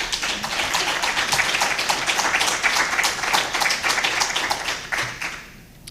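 An audience at a city council public hearing applauds a unanimous vote: dense, steady clapping of many hands lasting several seconds, then tapering off quickly into quiet at the end.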